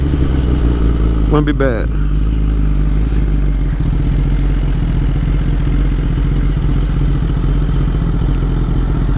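A 600cc motorcycle engine runs with a steady, droning rumble close by for the whole stretch, while someone talks over it.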